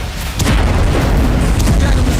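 Israeli artillery shelling in Gaza makes a loud, sustained roar of booms and rumbling blasts that fills the whole stretch with heavy low-end noise.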